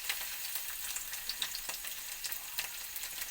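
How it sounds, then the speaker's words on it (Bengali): Panch phoron spices and chopped garlic frying in hot oil for a yardlong bean curry, a faint, even hiss dotted with small sharp pops and crackles, heard close with no one speaking. "তেল গরম হয়ে গেছে তেলের মধ্যে দিয়ে দেবো অল্প একটু পাঁচফোড়ন ফোড়নটা আমার ভাজা ভাজা হয়ে গেছে এরপর এর মধ্যে দিয়ে দেবো রসুন কুচি"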